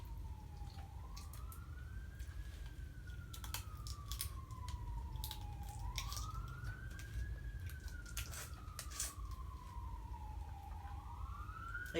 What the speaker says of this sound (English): If you hear that, it's sirens.